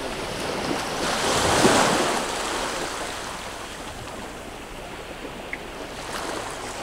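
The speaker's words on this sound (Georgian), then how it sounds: "ესეც ინდოეთის ოკეანე ძალიან ასწორებს" Indian Ocean waves wash steadily onto the shore, a continuous roar of surf with a gentle swell and some wind noise, close and fairly loud, with no voices.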